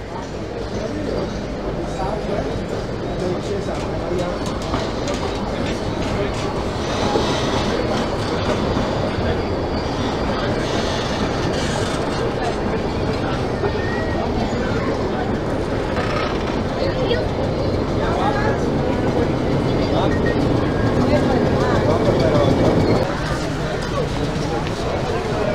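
A metre gauge train rolls into a small station platform with continuous rumbling and rhythmic clickety-clack, heard close and loud for the whole stretch while people talk over it.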